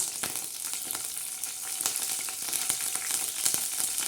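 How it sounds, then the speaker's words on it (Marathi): Curry leaves crackle and sizzle in hot oil in a kadhai for tempering, a steady dense frying hiss with sharp pops scattered throughout, close and continuous with no talk. "आपण त्याच्यामध्ये कढीपत्ता टाकणार आहोत फोडणीसाठी"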